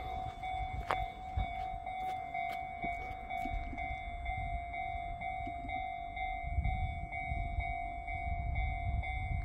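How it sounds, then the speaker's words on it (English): A train in Fukuoka, Japan, rumbles low and steady from a distance, with passing street ambience and faint high tones ringing throughout. "You can probably watch the train go by."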